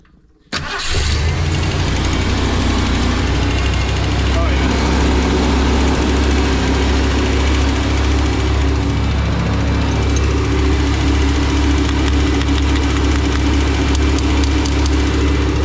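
A toy hauler's engine, back running after ten years with a carburetor needing a rebuild, catches and settles into a loud, steady idle with a constant low rumble that holds unbroken to the end.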